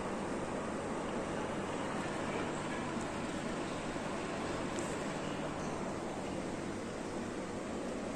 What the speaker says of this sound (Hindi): कितना सुंदर सा पानी झरना से नीचे बह रहा है।